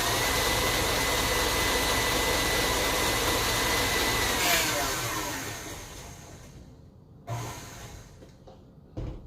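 An electric mixer whirs loudly and steadily through chocolate whoopie pie cookie batter. The motor winds down and stops partway through, followed by a few short clunks and rustles, with no talk.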